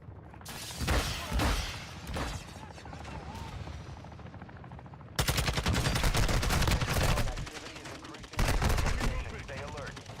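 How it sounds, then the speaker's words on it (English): Heavy automatic gunfire in Call of Duty DMZ, with near, loud bursts and rattling volleys throughout, briefly easing before a fresh wave of shooting, under faint game voices. "You are taking effective fire."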